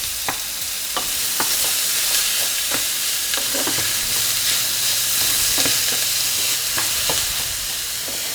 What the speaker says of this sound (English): Now incorporate the onions in it because again, we don't want the onion to burn. So definitely keep all of this moving.